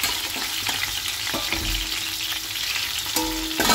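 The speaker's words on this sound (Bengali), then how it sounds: "আর এবার আমি মাছটা ভাজার পালা" Rohu fish pieces fry in hot oil with black cumin, giving a dense, continuous crackling sizzle up close, broken by a couple of brief utensil scrapes.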